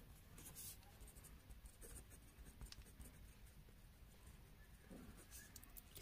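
A pen writes numbers by hand on paper during a maths lesson, with soft, continuous scratchy strokes running for about six seconds. The sound is close but faint over low background noise.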